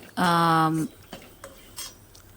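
Spoon scraping and clanking in a pan while mint is stirred for chutney, one long ringing metallic scrape followed by a few lighter knocks, close and fairly loud.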